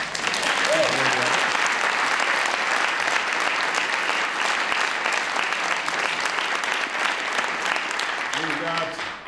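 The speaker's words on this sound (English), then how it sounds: "You can give her a round of applause." An audience at a presidential event on precision medicine applauds steadily for a health secretary being introduced, dense clapping filling the room at a constant loud level for the whole stretch, with faint voices underneath.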